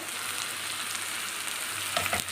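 Pepper chicken masala fries in a pan with a continuous steady sizzle, close and moderately loud, with a couple of brief stirring scrapes near the end.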